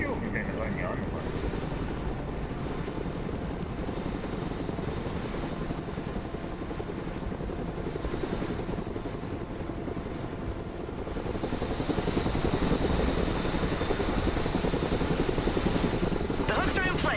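A Chinook helicopter in the video game Broken Arrow thrums steadily with continuous rotor and engine noise at moderate level throughout, swelling a little louder toward the end.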